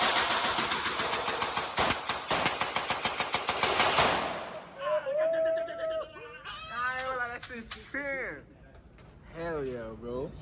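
A .300 Blackout rifle fires at a shooting range, a fast, loud, close run of rapid shots lasting about four seconds, followed by people talking.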